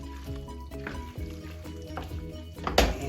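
Green beans and potatoes sizzle in a pan as hot sauce is stirred through them, with a continuous close crackle and soft scraping strokes that swell into a louder burst near the end.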